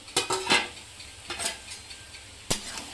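Cooking cabbage vegetable dish in a pot over medium heat: a few sharp metallic clinks and clatters of a lid being lifted and handled, separate knocks spread out with quiet gaps between them.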